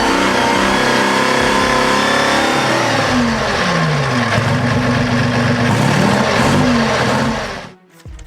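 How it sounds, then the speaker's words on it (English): Twin-crankshaft 240 hp engine of an Abbott self-propelled gun, running loud and close with a steady roar and rising, falling revs, before cutting off abruptly near the end. "With twin crankshafts and 240 brake horsepower, it powered the Abbott SPG through mud, heat, and chaos."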